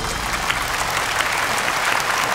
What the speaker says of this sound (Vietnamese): Một tràng pháo tay chào đón thí sinh Trí Khang